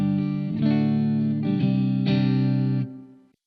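Electric guitar through a Blackstar St. James 6L6 amp and the first cabinet of a Cab Rig, strumming a few ringing chords. The tone is dry and close, with a short pause between strums, and the last chord is held and fades out.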